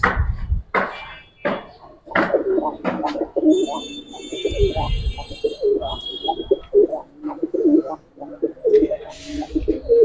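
A male Giribaz silver pigeon coos repeatedly in close, rolling calls, with soft handling thumps and a few faint background voices around it.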